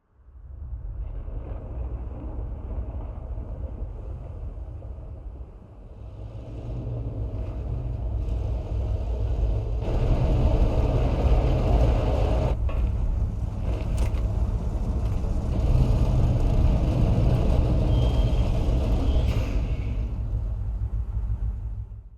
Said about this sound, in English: It's an ash storm!